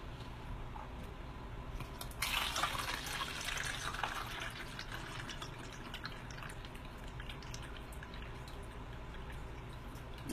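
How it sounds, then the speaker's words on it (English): Water running from a tap into a spray bottle being filled, a continuous soft splashing and trickling stream, close and fairly quiet, with a brief louder gush early on. "we're just going to fill this up right here with water"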